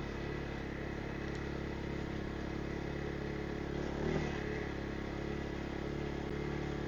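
A quad bike running along an old railway greenway with the rails left in place, giving a steady, faint engine drone throughout with no change in pace and no voices.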